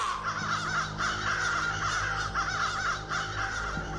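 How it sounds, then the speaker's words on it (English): Crows caw repeatedly in the horror video game The Beast Inside, harsh calls rising and falling over a steady low ambient background. "Birds."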